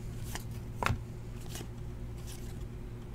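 Football trading cards being handled and sorted: soft papery shuffles and flicks, a few brief rustling bursts over a low steady room hum, close and quiet.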